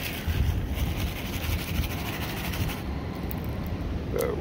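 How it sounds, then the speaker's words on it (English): Strong wind gusting outdoors at a creek while gold panning, a steady broadband roar buffeting the microphone throughout with brief surges. "The wind, which is already blowing pretty hard, is kicking up."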